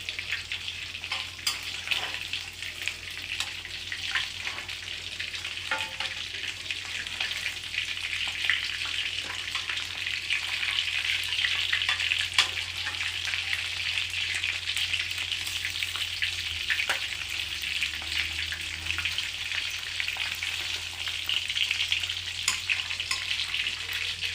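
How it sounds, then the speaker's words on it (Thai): Fish sizzles and crackles steadily in hot oil for deep frying, a dense continuous hiss with occasional pops, close and fairly loud with no talk. "ปลาที่ได้ ก็จะมาทอดครับ"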